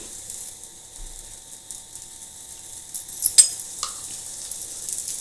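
Peanut powder roasting in ghee in a pan gives off a faint, steady sizzling hiss, broken by a couple of sharp clinks of a utensil against the pan midway.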